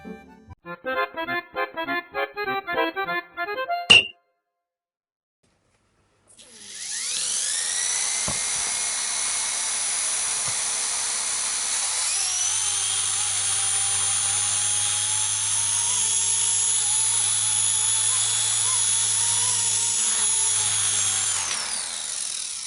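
A K110S RC helicopter fitted with a paper main rotor spins up and runs with a steady high-pitched electric whine. It shifts slightly in tone partway through, and a short burst of electronic beeps comes before it.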